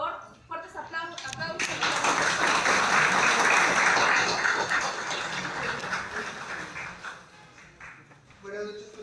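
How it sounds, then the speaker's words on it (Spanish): An audience at a constitutional procedural law lecture session in Lima breaks into loud applause that swells, holds for several seconds and then fades, with a voice speaking before and after. "Por favor, fuertes aplausos."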